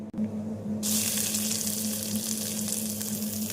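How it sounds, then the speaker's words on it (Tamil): Chopped onions drop into hot oil with cumin and a loud, continuous sizzle erupts and holds steady, close and bright, with no voices over it. "ஜீரகம் பொரியவும் நாம் நறுக்கிய வெங்காயத்தை சேர்த்து விடலாம்"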